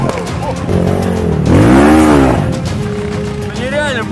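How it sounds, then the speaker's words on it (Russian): A motorcycle rides along a mountain road near Kislovodsk, its engine revving up and down in rising and falling sweeps close by, with people talking over it. "просто мотоцикл едет во все стороны."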